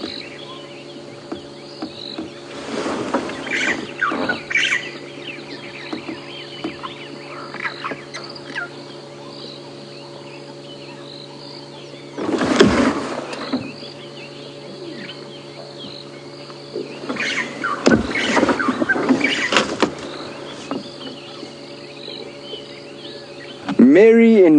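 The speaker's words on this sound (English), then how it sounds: "The dawn chorus, the birds are slowly starting to call." Birds calling in the dawn chorus on a morning safari drive at Djuma Game Reserve, with scattered bird calls over a steady insect drone and a low idling vehicle hum, distant and intermittent.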